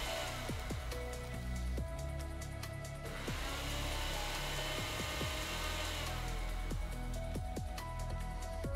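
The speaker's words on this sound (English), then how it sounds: "I just keep doing this until the rattling noise stops" An old blade grinder with a worn cup grinds graphite into powder, its motor whining at a steady pitch while the loose pieces rattle and tick against the blade and cup.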